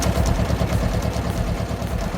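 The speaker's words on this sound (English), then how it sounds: "This wood splitter, attached to the Ursus C330 tractor" A tractor-mounted wood splitter on an Ursus C330 works an 80-centimetre log, its engine chugging loud and close in a steady, pulsing rhythm with metallic clatter and no voices.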